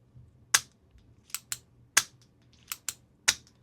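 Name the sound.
clicking the Writech Clictek retractable fountain pen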